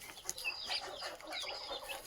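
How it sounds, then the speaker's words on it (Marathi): Two-month-old pure Gavran chicks cluck and peep softly, with a continuous busy chatter of several birds at close range and no speech. "हे आपले प्युअर गावरानचे 2 महिन्याचे पिल्ला आहेत"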